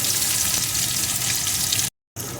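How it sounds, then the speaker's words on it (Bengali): Loud, steady sizzling hiss of onions frying in hot oil, broken by a brief moment of silence near the end. "এখন এই তেলের ভিতরে দিয়ে দেবো একটা পেঁয়াজ কুচি"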